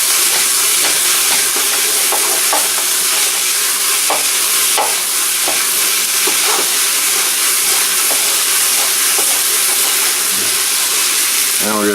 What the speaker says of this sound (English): we're getting too much steam again